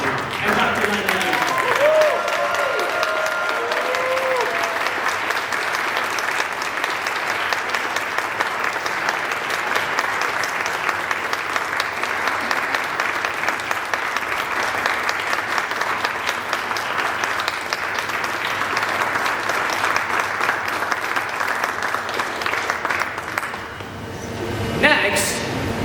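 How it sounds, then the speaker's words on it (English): Sustained applause from a large audience giving a standing ovation at a student address, a dense steady wash of clapping that holds for about twenty-five seconds before tapering off near the end. "Please join me in a standing ovation and huge round of applause for Dr."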